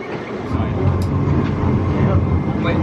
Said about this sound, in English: This is a much smaller train.